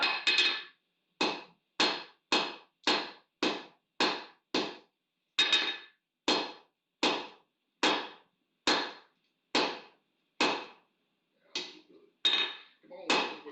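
Hammer blows on hot metal being drawn out at a forge, a steady series of about twenty sharp ringing strikes with a brief pause partway, then a few looser, softer hits at the end.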